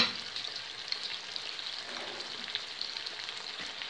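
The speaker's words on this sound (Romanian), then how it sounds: "Acum o să adăugăm sucul nostru de roșii." Tomato juice is poured over meatballs frying in a pan, producing a steady, fairly soft sizzle and crackle that continues throughout, with no voices.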